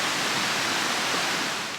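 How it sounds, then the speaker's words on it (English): Rainwater rushes through small waterfalls in a little hillside valley after rain, a dense, steady broadband roar with no speech over it. "the water flowing through here now"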